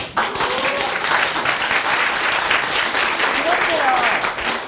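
A live talk-show audience breaks into applause, a full, steady burst of clapping that rises quickly and holds, with a few voices calling out faintly through it.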